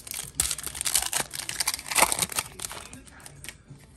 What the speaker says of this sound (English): go ahead and open both packs